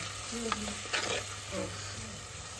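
Chilli powder, turmeric and salt mix hitting a hot pan, a continuous sizzle under light stirring scrapes with a couple of soft clatters, no voices.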